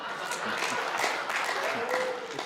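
An audience at a comedy show claps in a steady, moderately loud burst of applause from many hands, sustained evenly for a couple of seconds.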